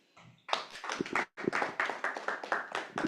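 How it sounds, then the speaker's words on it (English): A small group at a maize farmers' outreach meeting claps in quick, uneven bursts, the clapping fairly close and moderately loud, with a short pause between bursts. "Round of applause again for Mr. Olumide Benjamin."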